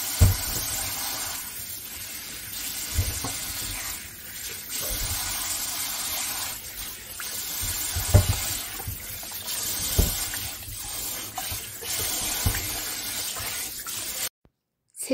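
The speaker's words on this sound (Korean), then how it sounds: "빡빡 문질러 귤은 찬물에 씻어 줍니다." Cold water runs from a tap as tangerines are scrubbed and rinsed underneath, a continuous splashing stream with periodic surges and thuds, cutting off abruptly near the end.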